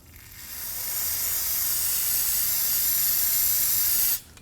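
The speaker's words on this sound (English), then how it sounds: "Using some brake parts cleaner, I'm gonna be spraying on it and then wiping it off." Brake parts cleaner sprays from an aerosol can onto a brake fitting of a 2014-2020 Acura MDX during a rear brake hose job: a loud, close, steady hiss that builds briefly, holds about four seconds, then cuts off sharply.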